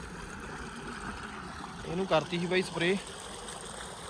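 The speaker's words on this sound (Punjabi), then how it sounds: "ਲੋ ਬਈ ਚੱਲਦਾ ਇਹਨੂੰ ਵੀ ਪਾਣੀ" Irrigation water runs into a wheat field as a steady, even rush that fills the whole stretch, with someone speaking briefly over it near the middle.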